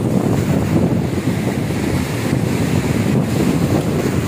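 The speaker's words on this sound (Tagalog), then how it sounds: "Malakas ang alon, guys." Strong surf at San Jose Bay Bay Beach Resort rolls in as a steady, loud roar of breaking waves mixed with gusting wind on the microphone, continuous and close throughout.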